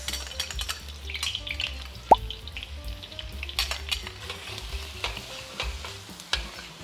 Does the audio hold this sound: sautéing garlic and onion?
yes